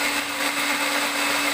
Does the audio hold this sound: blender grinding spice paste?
yes